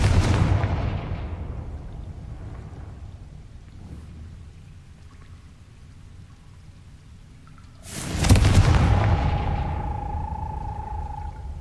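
A Confringo blasting spell detonates at a gate in the Hogwarts Legacy video game, a single loud, booming explosion that rumbles and then trails off into a long, crackling rumble over dim ambient background noise.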